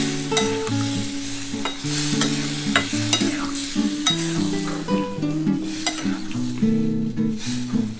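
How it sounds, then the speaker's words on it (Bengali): A soybean and potato curry sizzles loudly in a pan with steady frying crackle, while a continuous tonal background plays over the cooking and no one speaks. "এবার কিন্তু আমি জল দিয়ে দিচ্ছি"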